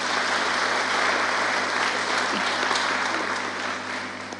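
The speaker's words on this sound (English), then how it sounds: "Kindly just give them a round of applause" A congregation at a memorial Mass applauds friends who stepped up to help, giving a full, steady round of many hands clapping that holds evenly and tapers slightly near the end, with a low hum running underneath.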